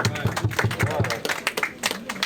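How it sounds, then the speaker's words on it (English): Applause breaks out for a cake cutting at an NYPD promotion celebration, clapping mixed with loud voices and cheering from a crowd in the room. "Big round of applause for cake cutting."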